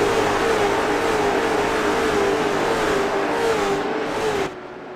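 A pack of race cars on the speedway bullring accelerating away at the green flag, a loud sustained engine roar with a steady pitched drone that rises slightly, then thins out as the cars move away.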